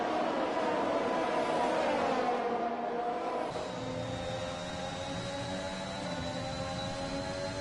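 Race cars roar through a Formula-style circuit race in a video game set in Mexico, a dense pack of engines droning and revving continuously at close range, one whining tone rising above the rest partway through.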